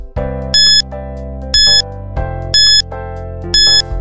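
An electronic timer alarm sounds four bright, loud beeps, roughly one per second, over a steady sustained tone.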